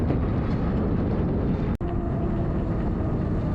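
Heavy wind buffeting the microphone while riding a Hovsco HovAlpha fat-tire electric road bike at speed into a headwind, a loud continuous roar with one brief dropout.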